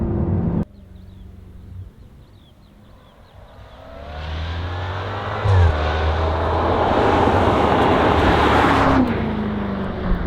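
A supercharged 5-litre V8 engine in a Jaguar XE SV Project 8 idles, then revs and roars as it accelerates hard from 0 to 60, the drone building loud and sustained.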